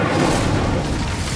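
A fiery burst from the Incendio fire spell in Hogwarts Legacy, a dense, loud rumbling roar sustained for over a second with no breaks, boomy and close.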